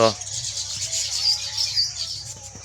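Bright, high chirps and tweets from several small birds, busy and continuous, with a brief voice at the start.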